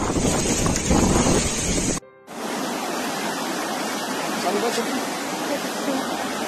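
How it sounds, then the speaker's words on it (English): Strong wind from Cyclone Biparjoy, with 170 km/h winds, roars in a steady broadband rush, buffeting the microphone, with a brief cut before the gusts continue loud and unbroken. "unleashing powerful gusts of wind that ripped up trees and toppled electricity poles"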